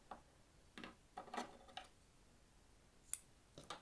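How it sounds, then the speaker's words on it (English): A dark strand of yarn is snipped with scissors at the end of a round of a woven basket body, giving a few quiet, sparse clicks and snips at close range, followed by a pause and a couple of sharper clips. "we are going to cut the dark strand"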